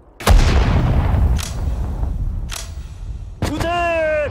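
Cannon artillery fire in the WWII strategy game Sudden Strike 4 during the battle of Singapore: several loud booming shots with decaying rumbles, spaced irregularly, the last blast joined by a sustained tonal whine or horn.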